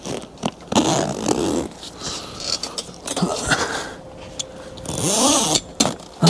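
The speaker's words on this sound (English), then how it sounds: "we have to zip our zipper back up" A zipper being pulled closed along the cover of an ARB Simpson III rooftop tent, a series of close, scratchy ratcheting runs broken by pauses and fabric handling.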